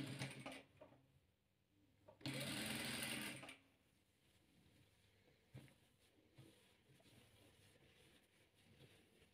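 A sewing machine stitches patchwork quilt rows together in a loud, steady whir for about a second, with quieter handling clicks and fabric shuffling before and after.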